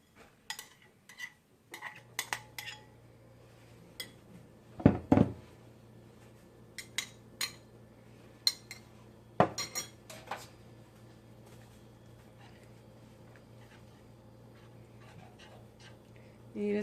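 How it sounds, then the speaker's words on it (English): Whisk clinking against a pot while Parmesan, salt and pepper are worked into Alfredo sauce, sparse metallic taps and scrapes close by, with a low steady hum and a dog panting nearby. "You just continue whisking until the cheese is melted and the sauce is smooth and creamy."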